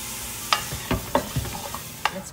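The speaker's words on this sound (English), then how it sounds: "I'm gonna give it a quick stir" Pasta sauce with hot pepper flakes and salt is stirred in a pan in a few quick, faint scraping strokes over a soft sizzle.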